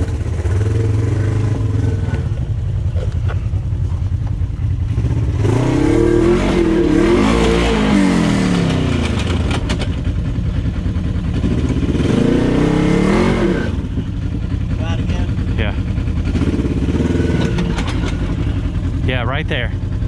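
An off-road vehicle on a rocky trail at Windrock revs hard in repeated surges to climb an obstacle, loud engine roars rising and falling with people talking over it.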